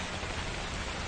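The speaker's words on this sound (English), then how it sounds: "The rain! It was the rain!" Steady rain falls in a horror video game, a dense, even hiss of drops that fills the whole short stretch without any voices.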